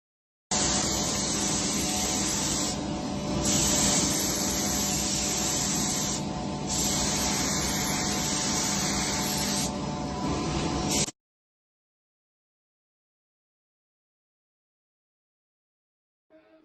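Primer sprays in a continuous hiss for about ten seconds over a Fibrapan Hidrofugo board, with two brief dips where the spray pauses, followed by silence.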